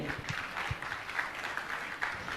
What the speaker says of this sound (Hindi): और मैं चाहूंगा आप जोरदार ताली बजाकर इनका सम्मान करें।